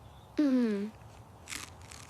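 Hard, dry noodles being bitten and chewed, giving a couple of short, crisp crunches close by just after a brief drawn-out vocal sound.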